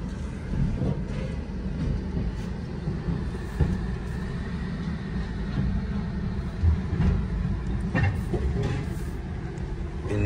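Steady low rumble of a train in motion, with occasional faint clanks and rattles over the continuous drone.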